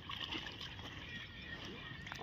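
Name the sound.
washing clothes by hand in water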